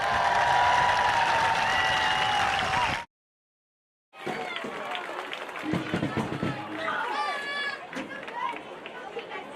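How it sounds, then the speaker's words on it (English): A crowd at a high school football game applauds the marching band at halftime. After a short tonal passage and a brief silence, a steady wash of clapping rises, mixed with crowd chatter and a few voices. "Let's give them a round of applause."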